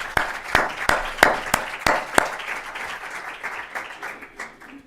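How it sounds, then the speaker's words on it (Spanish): Applause at a Spanish-language panel on health and digital technology: a handful of sharp, separate claps rings out first, then softer scattered clapping trails away. "un aplauso"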